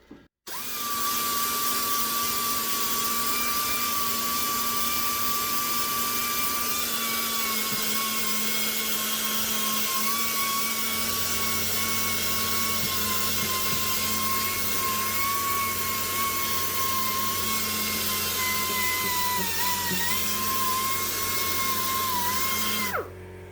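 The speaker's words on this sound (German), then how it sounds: "zuerst nehme ich dafür immer so einen Schleifer mit einem Schleifpad, um die Fläche ein bisschen anzuschleifen" A power sander with a sanding pad whines steadily and loudly for a long stretch on a Corvette C3 body, its high buzzing tone wavering slightly as it works across the surface.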